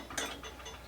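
A ratchet tightening bolts on a Schwinn bicycle gives a quick, close clicking of the pawl, a brief sharp burst followed by faint ticks, quiet and alone.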